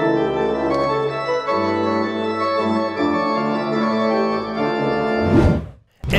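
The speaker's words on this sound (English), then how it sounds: "The organ sounds like this." Pipe organ of the kind found in churches and old cathedrals, playing sustained chords rich in harmonics for about five seconds, loud and alone, ending in a swelling flourish and a brief cutoff.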